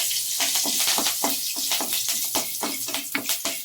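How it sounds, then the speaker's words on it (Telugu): Curry leaves drop into hot oil for a tempering for nalleru (veldt grape) stone-ground chutney, setting off a loud, close, steady hiss of frying spattered with sharp crackles and pops throughout, with no voices. "ఇప్పుడు కరివేపాకు వేసేద్దామండి"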